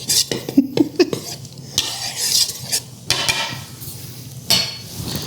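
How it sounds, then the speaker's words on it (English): A knife stirs flour, baking soda, baking powder and salt in a bowl: a run of clinking, scraping strokes against the bowl, close and fairly loud, with brief pauses between bursts and no voices. "Stir it up with this knife."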